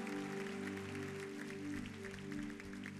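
A congregation claps steadily through an evening service at Igreja Batista Lagoinha, with sustained keyboard chords ringing underneath for the full three seconds.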